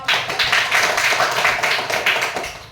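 A classroom of students claps for a presenting group, a brisk, close burst of many hands that pulses slightly in rhythm and stays loud for the whole moment.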